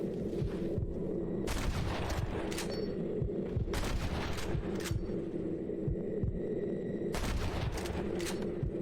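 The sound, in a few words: gunfire in video game Red Dead Redemption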